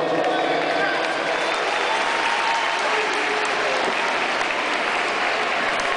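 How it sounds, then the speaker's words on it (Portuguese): At a singing contest final, the audience applauds a contestant with dense, loud clapping and some cheering that carries on steadily throughout, with a voice talking faintly beneath it. "Uma salva de palmas para ela, por favor."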